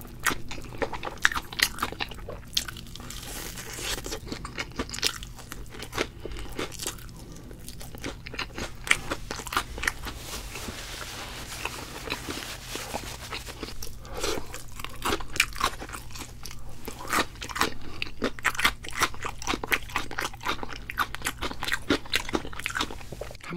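Crunchy bites into BHC potato-coated fried chicken, with repeated crisp crackling crunches and chewing close to the microphone, irregular and continuous.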